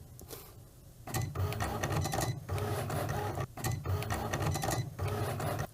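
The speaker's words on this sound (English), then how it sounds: "now that the machine has done all of the cutting for me" A Cricut cutting machine slicing iron-on material, its motor whirring in steady buzzing runs broken by brief pauses as the carriage changes direction, close and mechanical with no talk.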